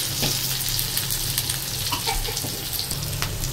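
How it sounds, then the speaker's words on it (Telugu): Onion and curry leaves fry in a pan, a steady close sizzle with light stirring scrapes running continuously for a few seconds, no talking. "ఇప్పుడు కరివేపాకు కొద్దిగా వేసుకొని బాగా వేయించుకోవాలి."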